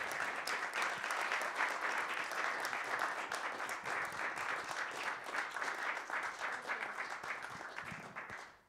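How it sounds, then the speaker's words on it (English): A steady round of applause from a sizable esports panel audience, sustained and even, tapering off toward the end. "could we have a nice round of applause for our panelists here at the desk?"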